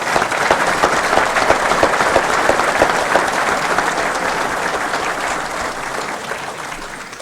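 Audience at a Hall of Fame luncheon applauding, a dense, steady burst of clapping from a room full of people that fades slightly toward the end.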